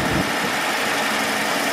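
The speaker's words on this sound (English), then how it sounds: "This thing's running on its own." A motorhome engine, just started and still cold with the choke open, idles steadily on its own, a loud, continuous broadband rumble close by.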